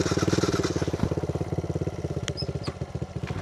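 A pit bike engine runs close and loud after a kickstart, with a steady rhythmic chugging idle and slight rises in revs over an evening ride.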